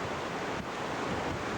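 Rushing water from river rapids on the Quoich River, a steady broadband roar mixed with wind buffeting the microphone, continuous and close throughout with no voices.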